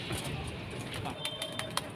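Pigeons coo in a loft, soft low cooing mixed with faint chirps and rustling, while people talk quietly nearby.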